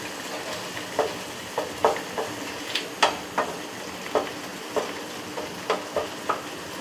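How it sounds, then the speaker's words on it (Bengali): Yogurt is stirred into a sizzling spinach and paneer gravy in a pan, a steady fry hiss under a series of regular spoon scrapes and clinks, close and clear. "এটা আবার মধ্যে মিশিয়ে দেবো, দিয়ে এটা আবার ভালো করে নাড়াচাড়া করে নেব"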